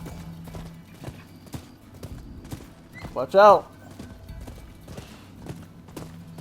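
A horse gallops in the video game Rise of the Ronin, with steady faint hoofbeat clops and a sharp whinny partway through, while a person speaks over it.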